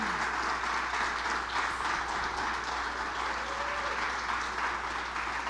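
A church congregation at a Sunday celebration applauds the Lord in a continuous, even round of clapping from many people, filling the room at a moderate, steady level.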